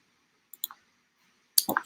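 A few sharp computer mouse clicks on a web page button, a quick pair near the start and a louder cluster at the end, close and crisp over near silence.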